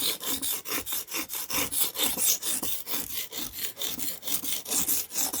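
A knife is drawn steadily across the softer, smoother side of a cheap whetstone, giving a close, rhythmic series of gritty scraping strokes, roughly two to three per second, with no voices.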